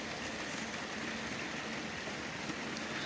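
Steady rain pours down on a homestead during a heavy rainy-season storm with flooding nearby, a dense, continuous hiss of drops hitting surfaces that stays even and close throughout, with no voices.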